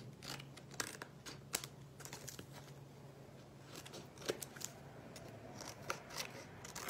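Scissors snip around the edges of a paper square for a flower suncatcher craft, a series of short crisp cuts in an irregular rhythm, close and fairly quiet, with no talking.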